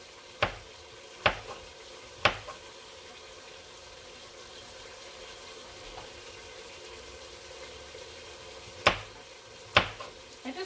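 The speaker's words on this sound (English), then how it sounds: "Gonna give my meat a stir." Meat cooking in a pot for chili is stirred, with a spoon sharply clacking against the pot several times over a soft, steady sizzle.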